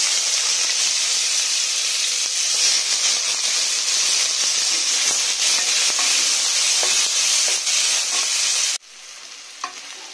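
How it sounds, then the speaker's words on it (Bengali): Chopped onion hits very hot oil already crackling with dried chillies, a loud, dense sizzle with stirring that runs steadily before cutting off abruptly near the end, leaving a quiet tail with a single faint tap. "এবারে আমি পেঁয়াজ কুচিটা দিয়ে দিচ্ছি।"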